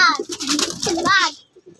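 Young pigeons coo close by at a rooftop loft, soft throaty calls mixed with a voice and ending in a brief faint tail.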